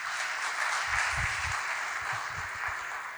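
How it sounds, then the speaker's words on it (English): An audience at a 1981–85 batch reunion function of TCE Madurai claps in soft, diffuse applause that hums steadily at moderate distance, fairly quiet and sustained for a few seconds. "we can have a round of applause for you"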